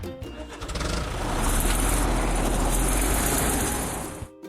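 Bulldozer engine in a kids' construction video game, a synthetic motor that starts up, swells into a steady loud droning rumble for several seconds, then cuts off abruptly.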